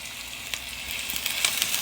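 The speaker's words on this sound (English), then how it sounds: "let's stir fry these onions up a little bit before we add the meat and the taco sauce" Onions stir frying in a pan for chicken tacos, a steady bright sizzle with a few light scraping stirs popping up through it, close and moderately loud with no talking.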